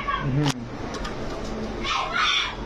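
Caged pigeons coo and flutter nearby in a noisy setting, with a sharp rustle or wing flap early on and soft talk in the background.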